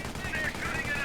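Machine gun fire in the Company of Heroes World War II strategy game, a dense, steady burst running for about a second.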